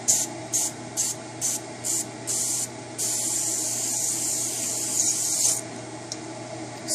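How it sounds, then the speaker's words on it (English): Pam cooking spray hisses onto a pan in about seven short, evenly spaced bursts, followed by one long continuous spray and a final quick puff, close and crisp with no talking. "you just spray it with Pam each round"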